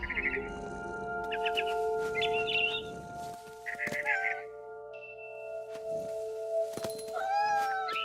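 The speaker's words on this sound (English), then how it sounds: "I was a cat." A cat meows in the video game What Remains of Edith Finch, several close, clear cries among chirping bird calls, with background music and a voice speaking in between.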